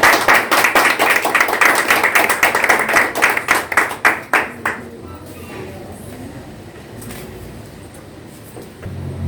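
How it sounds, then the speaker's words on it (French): Audience applause for the ACM president at an award tribute, distinct rhythmic clapping for about five seconds that fades into a quieter room with low murmuring voices. "je vous demande d'applaudir chaudement la présidente de l'ACM"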